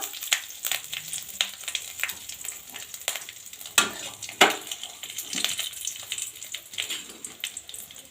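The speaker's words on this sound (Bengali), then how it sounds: "এবার তেজপাতা আর কাজু কিশমিশ দিয়ে দিচ্ছি দিয়ে তেলের মধ্যে ভালো করে দুটো ঘিয়ের মধ্যে নেড়ে নেবো" Bay leaf, cashews and raisins fry in ghee with a light crackling sizzle, broken by scraping stirs and a few sharper clinks of a spoon against the pan, fairly close and without speech.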